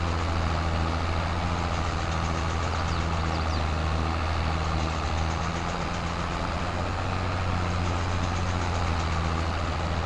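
A tractor engine idles in Farming Simulator 22 during haymaking with bales. The low, steady rumble carries an even hum at constant volume for the whole stretch, with no voices over it.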